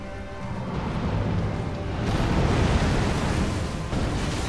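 A sustained, roaring explosion in the video game Elden Ring, loud and rumbling, swelling slightly midway and holding as a continuous blast of noise with no talk over it.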